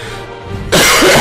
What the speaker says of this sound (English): I gotta get this cough checked out, man.